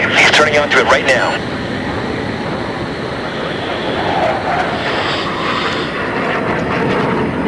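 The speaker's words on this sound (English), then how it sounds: "The plane's made it to the runway. He's turning onto it right now." A jet taxis and turns onto a runway in Battlefield 3, its steady engine roar running throughout beneath a rushing wind-like wash, with a person talking over it early on.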